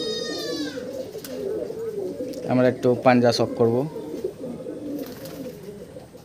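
Pet pigeons coo nearby, low and throaty, with one louder rolling burst in the middle, while someone talks over them.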